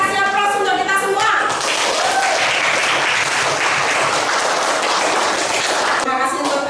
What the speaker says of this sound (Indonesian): Oke, kita kasih aplaus untuk kita semua.